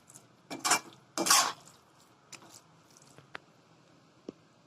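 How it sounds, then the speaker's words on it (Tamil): Bread halwa with cashews and raisins is stirred in a pan, giving two short, wet scraping bursts followed by a few faint taps of the spoon against the pan. "இதை நல்லா கிண்டி விட்டுக்கோங்க."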